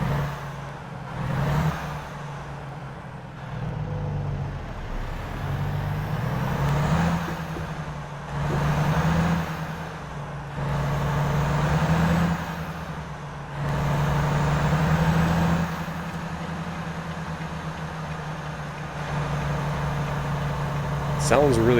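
Volvo VNL truck engine in American Truck Simulator revving repeatedly from idle, rising and falling in several long surges with a low diesel drone between them.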